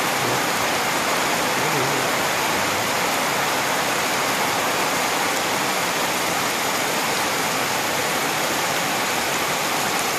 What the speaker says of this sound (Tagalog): Tubig oh. Galing sa taas, yan ang bagsak dito sa baba.